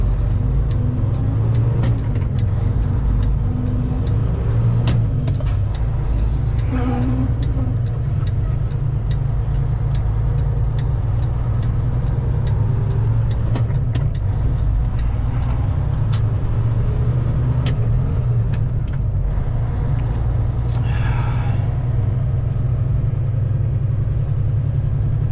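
Road traffic at a busy turn heard from inside a waiting car, a low steady engine rumble with vehicles passing, occasional faint ticking, continuous and without talk.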